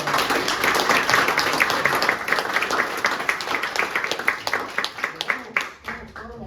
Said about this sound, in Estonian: Teeme kõigile tugeva aplausi.